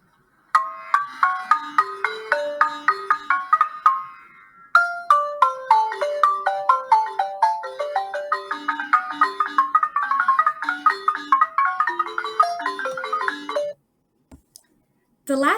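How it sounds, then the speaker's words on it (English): A balafon, the West African wooden-keyed instrument related to the xylophone, plays a quick run of bright, ringing struck notes in a steady melodic rhythm, with a short pause around four seconds and the playing stopping near the end. "The balafon is another great instrument of West Africa and is played similarly to the xylophone."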